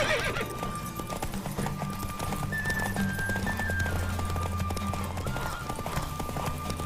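Horse hooves clip-clop rapidly at a gallop with repeated neighs and whinnies during a race in The Witcher 3 video game, steady and close over a continuous game soundtrack.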